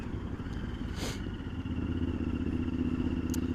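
A 1000cc V-twin motorcycle engine hums low and steady while riding through city traffic, fairly faint with a brief clatter early on.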